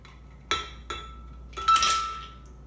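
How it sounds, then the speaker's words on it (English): Ice cubes dropped into a blender jug for a vanilla berry milkshake: two sharp clinks, then a louder rattling clatter of several cubes settling, close and clear with no talk. "We're going to start by adding the ice cubes."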